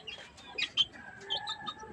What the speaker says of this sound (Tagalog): Bago tayo sa sisiw.